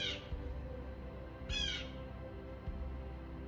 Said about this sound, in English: That's why I was thinking of birds, because they're talking to me.